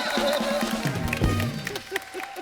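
Studio audience applauds and cheers on a Hindi comedy talk show, a steady burst of clapping with a low musical sting and some voices mixed in.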